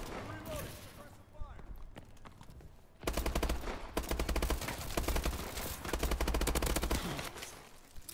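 Automatic gunfire from Call of Duty: Advanced Warfare on PS4 rattles in rapid sustained bursts, loud and close, with a player talking over parts of it.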